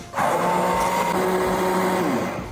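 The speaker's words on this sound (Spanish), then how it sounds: "ahora con una licuadora de mano le vamos a ir dando hasta tener nuestra salsa" A hand blender whirs steadily while puréeing frozen red berries into a sauce, a continuous loud motor whine with a slight pitch shift midway and no talking.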